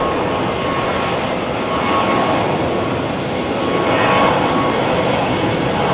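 A JetBlue airliner's jet engines roar steadily as it passes overhead, a broad continuous rumble that swells slightly toward the end, with no voices.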